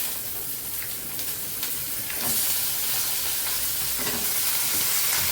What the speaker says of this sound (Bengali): এই আলুটা আমি এটার সাথে ভেজে নেব।